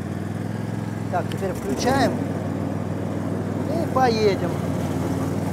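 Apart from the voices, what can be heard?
Caiman Rapido Max Eco garden tractor engine running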